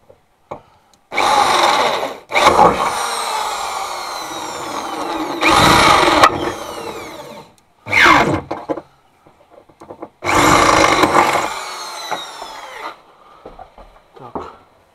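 A hammer drill bores holes into the trunk lid of a Daewoo Lanos in several loud, close bursts of a few seconds each, with brief quiet gaps between them.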